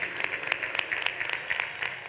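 Applause from an audience at a Hindu religious discourse (katha) gathering, a steady wash of many hands clapping together at moderate distance, continuous with no voices over it.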